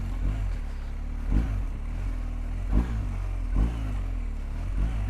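An adventure motorcycle idles in a low, steady thrum on slippery mud while the rider blips the throttle in short, repeated revs about once a second, each a brief rise in engine note.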